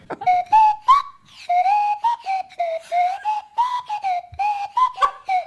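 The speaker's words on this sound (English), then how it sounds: "on the Swanee whistle" A swanee slide whistle plays a wobbly tune, the pitch gliding up and down in short swooping phrases, close and fairly loud, with no talking.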